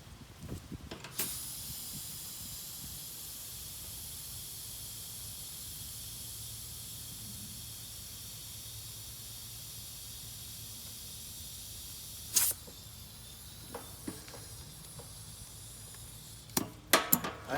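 Gas hissing steadily out through an open valve on a small blue reaction chamber making hydrogen from lye and aluminum, a continuous close hiss with a few brief clunks and handling noises near the end.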